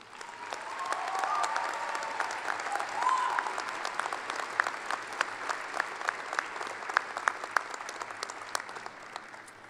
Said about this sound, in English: Faculty, please arise and let's give them a round of applause.